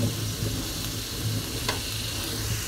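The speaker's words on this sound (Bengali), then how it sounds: "পেঁয়াজটাকে অবশ্যই এইভাবে হালকা একটু ভেজে নেবেন।" Onions fry lightly in oil, making a soft, steady sizzle with occasional faint ticks and crackles close by.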